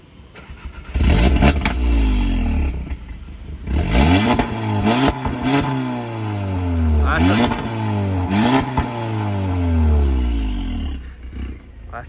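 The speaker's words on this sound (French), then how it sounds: "Tu donnes un petit coup de gaz pour savoir." An Audi S1 engine revs hard in a few loud, rising bursts, each climbing and falling back, with a deep throaty roar close to the microphone and brief voices in between.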